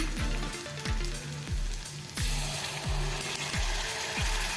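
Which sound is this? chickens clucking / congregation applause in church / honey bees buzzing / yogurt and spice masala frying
yogurt and spice masala frying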